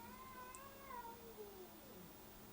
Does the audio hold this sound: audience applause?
no